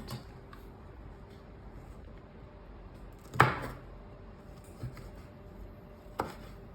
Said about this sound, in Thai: ผมหั่นแบบเล็ก ๆ แบบนี้ให้มัน